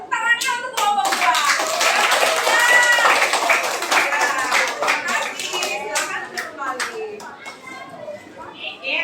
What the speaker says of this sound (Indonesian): Tepuk tangannya untuk kelompok 2.